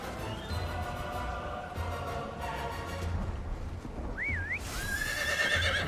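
A horse neighs and whinnies in a drawn-out, wavering call near the end, rising over a busy background of rumbling ambience and muffled noise.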